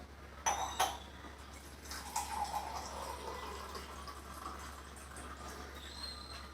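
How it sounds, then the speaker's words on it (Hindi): Plain water is poured into containers, with a couple of sharp clinks near the start, then a soft, steady trickle and fill that runs on faintly through the rest. "बाकी दोनों के अंदर मैं एक सिंपल वाटर भरने वाला हूँ"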